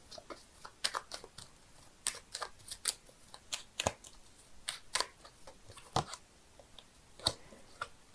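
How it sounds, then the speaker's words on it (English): Tarot cards are shuffled close by, a string of crisp riffling snaps and slaps arriving in irregular bursts over several seconds, with no voices. "I'm shuffling the cards here"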